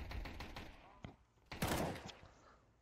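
Scattered gunshots in the video game Counter-Strike, a few sharp cracks followed by a louder burst of fire near the middle, under a low background game murmur.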